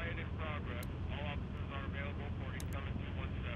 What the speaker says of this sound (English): Helicopter! Look at that.